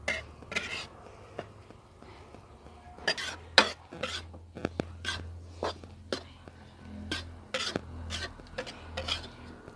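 Flour being roasted in ghee in a pan, with a spoon scraping and clinking against the metal in irregular close strokes and soft sizzling beneath, alone and with no talk.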